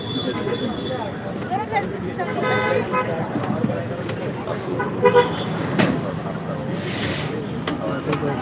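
Street traffic goes by with vehicle horns tooting several times over the engine rumble, and a voice talks through the noise.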